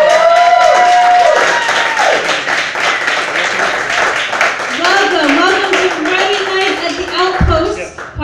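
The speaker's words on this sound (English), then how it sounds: "we're still going to clap and cheer because this is still an awesome event" Live-event audience clapping and cheering at a writing night, a crowd's applause with whoops and raised voices layered over it, loud and close throughout.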